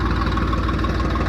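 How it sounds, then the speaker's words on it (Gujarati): Tractor engine running steadily while pulling a rotavator through a farm field, a continuous low, rumbling drone at an even level with no voices. "આપણે રોટાવેટર હાંકી રહ્યા છો"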